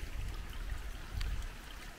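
Creek water flows steadily beside a qanat channel outdoors, a broadband low rushing with a faint trickle on top, continuous and fairly close, with no voices.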